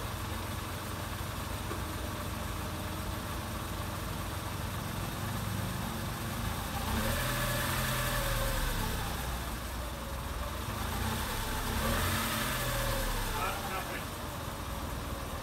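A Smart City Coupe engine idles steadily at close range, rising twice in mild swells as the throttle is blipped, with the low hum continuing throughout.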